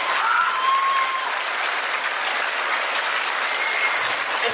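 An audience at a talk or meeting breaks into sustained clapping, a dense, steady patter of many hands filling the room at close range, unbroken by speech.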